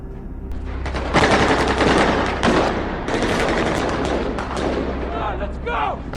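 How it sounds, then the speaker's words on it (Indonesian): Gunfire rattles in rapid, dense bursts during a film shootout outside a bank, loud and continuous, with thumps and shouted voices mixed in. "Baku tembak yang dipicu akibat Nelson menembak seorang polisi di luar bank terjadi"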